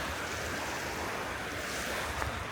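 Ocean waves wash steadily onto the shore, a continuous near wash with some wind noise over the microphone and no talk.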